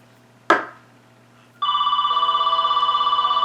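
Home telephone ringing indoors with a steady electronic trilling pulse that starts after a single sharp knock and continues loudly to the end.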